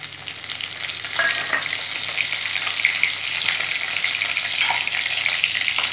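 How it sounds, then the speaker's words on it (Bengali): Whole cardamom, cinnamon, cumin seeds and bay leaf tempering in hot oil, giving a loud, steady, close sizzle and crackle throughout with a few brief stirring scrapes. "যা তেল আছে এর মধ্যে দেখো এলাচ, দারচিনি, গোটা জিরে আর তেজপাতা ফোড়ন করে নেব"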